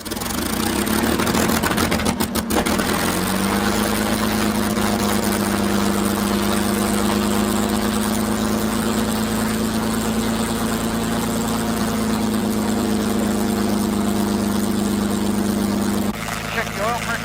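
A P-51 Mustang fighter's engine started and brought to idle, a loud, close roar with a steady droning tone that settles in after a few seconds of starting and holds throughout, with a voice talking over it.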